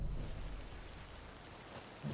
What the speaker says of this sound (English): Oh, it's raining real bad.